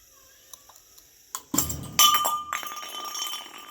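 Two stuck glass tumblers are pulled apart with a rope, giving a few light clinks and then a bright ringing clatter as they separate, close and fairly loud against a quiet background.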